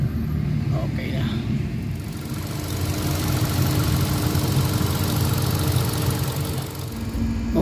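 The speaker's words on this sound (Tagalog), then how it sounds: "nanginginig yung kanyang engine at saka yung kanyang exhaust pipe, talagang maingay" A Hyundai Accent with a 1.4 gasoline engine idles with a misfire and heavy vibration. It makes a continuous low, uneven rumble close by, and a voice talks over it.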